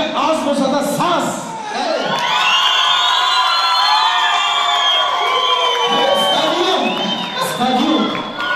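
A wedding-feast crowd at a comedy show erupts in loud, sustained cheering and shrill whistles, with shouts and scattered clapping rising and falling throughout.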